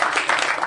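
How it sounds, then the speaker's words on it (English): Audience clapping at a live comedy podcast taping, a brief steady patter of applause, moderately loud and close, filling the short moment without any talk. "Is Rob Schraub clapping?"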